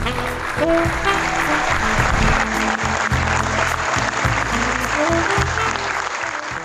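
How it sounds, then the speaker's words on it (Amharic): Sustained, loud audience applause fills an award ceremony hall, a dense steady wash of clapping throughout with a faint voice underneath. "እባካችሁ ሞቅ ያለ ጭብጨባ ለሰላምዬ ስጡልን"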